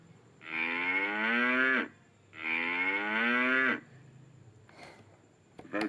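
A Chicco talking toy farm house plays a cow's moo twice, two long, loud, drawn-out lows separated by a brief pause, followed by faint clicks.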